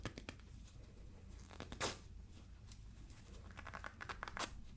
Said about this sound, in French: Ce que je vais faire avec mon coton, c'est que je vais le couper en deux, cette fois-ci.